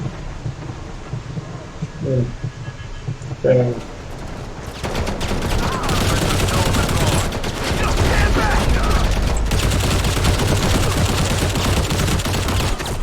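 Rapid bursts of video game gunfire crackle over a dense, noisy backdrop, with a few sharp shots early and then sustained heavy firing throughout.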